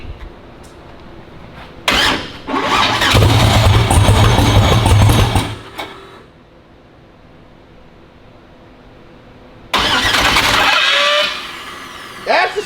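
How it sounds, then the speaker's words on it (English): Starter motor cranking a twin-turbo Black Sheep engine fitted in a street car, two loud whirring bursts of several seconds each separated by a quiet pause, with a short clunk at the end. "that's the starter."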